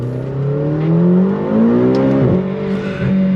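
A 2021 McLaren GT's engine pulls hard under throttle, its loud, close note climbing steadily in pitch. It drops sharply at a gear change and then climbs again, with no talking.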